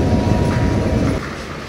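Kondaveedu Express, train no. 17212, runs on its journey from Yeshwanthpur to Machilipatnam, giving a brief steady rumble heard close by that eases a little near the end.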